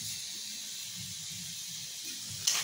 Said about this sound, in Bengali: এবার এটাকে ভালো করে মশলাটাকে কষে নিতে হবে।